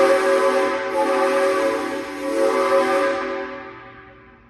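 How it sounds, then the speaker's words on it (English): A 3D printed 4-inch train whistle with a redesigned bowl is blown with air in a shop. It gives one sustained, rich chord-like tone that holds steady and then fades out, alone and fairly loud. "I was astonished by how different the whistle sounded with this redesign of the bowl."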